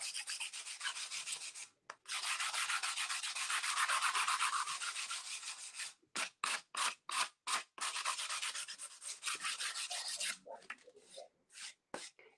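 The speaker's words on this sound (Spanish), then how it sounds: "como es madera, podéis lijar." Wood is sanded by hand, first in long continuous strokes, then in quick short back-and-forth rubs, close and fairly loud.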